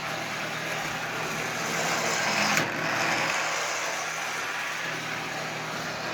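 A Lionel model train fire car runs along its track with a continuous close whirring rumble that swells slightly midway, then carries on steadily.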